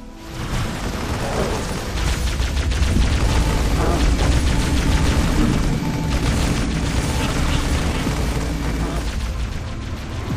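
Battle in the Halo Wars strategy game on Xbox 360 with units firing: dense, continuous volleys of booms, explosions and rapid shots layered together, loud and sustained across the whole stretch.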